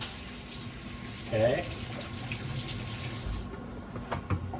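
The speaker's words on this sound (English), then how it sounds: "So I'm going to wash my hands." Hands being washed under a running kitchen tap, a steady close stream of water with brief splashes as hands move, and a person briefly speaks over it.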